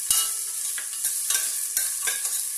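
Green chili being stir-fried in a pan with garam masala, cinnamon, cloves and cardamom, a steady close sizzle broken by several scraping stirs, no voices.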